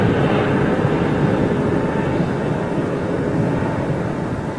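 A jet airliner's engines spool down at London Heathrow, a steady broad roar that holds loud throughout and eases only slightly toward the end, with no voices over it.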